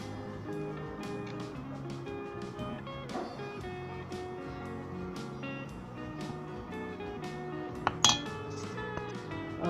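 Raisin pound cake batter with orange peel stirred in a bowl, light clinks and scrapes of a spoon against the bowl over soft background music, with one sharper clink near the end.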